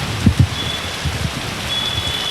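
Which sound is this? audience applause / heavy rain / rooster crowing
heavy rain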